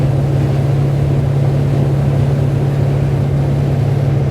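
Dromeas 28CC motorboat cruising at 25 knots, a steady, loud engine drone with a strong low hum and constant wash of water and wind, unbroken and with no talk.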